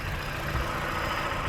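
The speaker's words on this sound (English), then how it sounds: "The fan finally kicked on after like 30 minutes of idling." A 2008 Honda Fit engine idles steadily, a low continuous hum and rumble with even vibration, close and moderately loud, with no talking.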